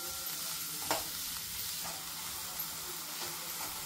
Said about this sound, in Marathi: मी याला छान भाजून घेते,